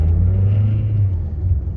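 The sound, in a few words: 2016 Mazda CX-5 Skyactiv accelerating in sport mode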